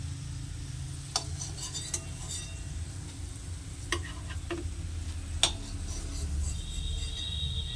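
Soybean chili fritters fry in hot oil with a soft continuous sizzle, punctuated by a handful of sharp clinks and taps from a utensil against the pan, fairly quiet and without talk.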